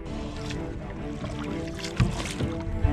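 A small boat moves over calm water on Laguna Lake in the Philippines, with a low steady hum and faint splashes and knocks against the hull.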